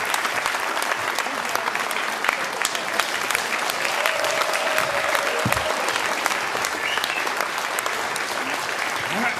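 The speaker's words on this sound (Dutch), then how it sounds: "Dames en heren, hartelijk applaus voor Sjaak Bral." Warm audience applause at a 2014 lead-candidates political debate in Zoetermeer, a loud, dense, sustained clapping from a large crowd that holds steady for the whole stretch, with faint crowd murmur beneath.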